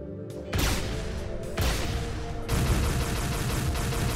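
Rapid bursts of gunfire from the shooter game Brutal Heretic, starting after a brief pause and continuing as a dense, loud barrage with short breaks, no talking over it.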